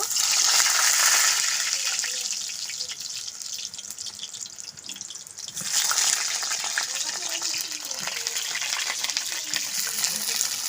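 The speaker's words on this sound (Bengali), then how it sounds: "আমি এখন পটলগুলো এক এক করে দিয়ে ভেজে নেব" Pieces of pointed gourd (potol) fry in hot oil in a village-style kitchen, giving a loud, steady sizzling hiss that dips briefly and then surges again as more pieces go into the pan.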